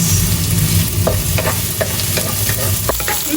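String beans being sautéed for adobo in a hot pan, a steady loud sizzle with a few spoon stirs and scrapes clicking through it, close up and with no talk.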